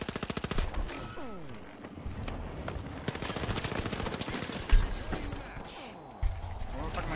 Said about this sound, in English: Where the fuck am I getting shot from?